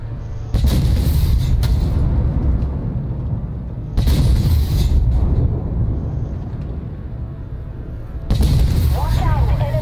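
Tank cannon fire in the video game Armored Warfare: three heavy booming shots about four seconds apart, each a loud sharp blast that rolls off into rumbling battle noise, with speech faintly underneath.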